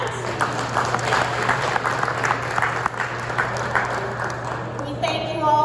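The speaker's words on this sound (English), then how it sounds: "Yes, you can clap for that." Audience at the McKinney Area Democratic Club's first general membership meeting of 2022 claps steadily throughout, a dense room-filling patter with a low hum beneath and scattered voices mixing in near the end.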